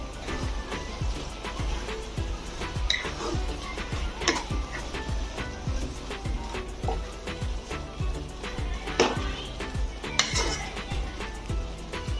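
A spoon knocks and scrapes against a cooking pot in an irregular rhythm while jute leaf greens are stirred with salt, the metallic clanks close and fairly loud.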